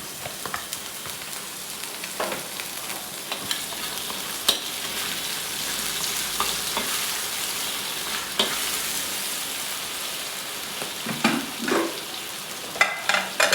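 Garlic fries in hot cooking oil for spicy garlic fried rice, giving a steady, close sizzle with occasional stirring clicks and scrapes. No one speaks.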